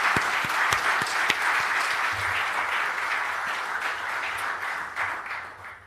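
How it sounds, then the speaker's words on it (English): Sustained applause from a seated audience at an International Civil Aviation Organization Council event, a dense wash of clapping with a few distinct close claps near the start, gradually easing toward the end. "Another round of applause, please."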